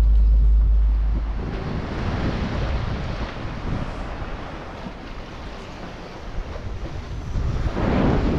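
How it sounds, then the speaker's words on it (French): Steady wind roar, strengthening, with broadband rushing water of waves and surf heard from a sailboat at sea, loud and continuous with a gust swelling near the end. "le vent forcit un petit peu"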